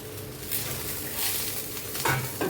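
Potatoes sizzle softly in a pan for a Bengali-style rice and pointed gourd dish, with brief scraping stirs and a faint clink of the utensil against the pan.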